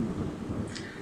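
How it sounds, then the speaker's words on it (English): Heavy rain pours down in a sudden downpour somewhere on a cycling route through Africa, a dense, steady roar of broadband hiss with low rumbling underneath, loud and continuous with no voices. "Now I just stopped to cover the camera because of the rain"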